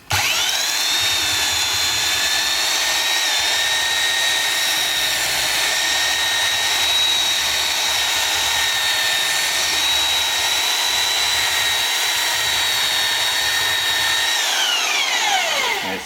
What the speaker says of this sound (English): So I've just got a belt sander and we're just going to go ahead and see what we can get out of it.